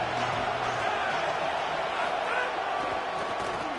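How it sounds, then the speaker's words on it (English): A football stadium crowd at a Penn State versus Michigan game roars as a steady, dense wash of noise, with a broadcast voice faintly under it. "This crowd ready to make its presence known"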